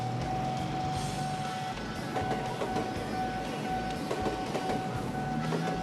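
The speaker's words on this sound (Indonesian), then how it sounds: "Dengar nggak tuh? Peringatan lintasan kereta." A steady high-pitched railway level crossing warning tone rings repeatedly over loud rumbling traffic and engine noise, close by.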